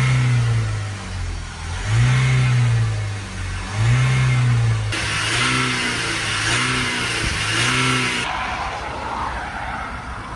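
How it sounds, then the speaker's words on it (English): A BMW Mini diesel car engine at idle is revved several times, each acceleration rising in pitch and falling back, with repeated short blips and a steady engine hum between them, close and loud. "Give the car a few accelerations."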